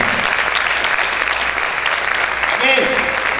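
A congregation claps loudly and continuously at a Spanish-language fasting church service, a dense wash of applause with a voice speaking over it.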